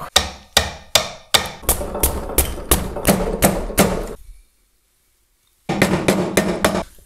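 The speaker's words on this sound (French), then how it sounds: "Je prends un petit marteau." Steady metallic tapping from a small hammer fitting driveshaft tripod joints on an Abarth car, about two blows a second, then a pause of over a second before a quicker run of taps resumes.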